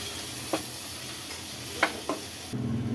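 Whole spices sizzle lightly in a pan with a few soft stirring clicks, then a louder steady frying hiss near the end.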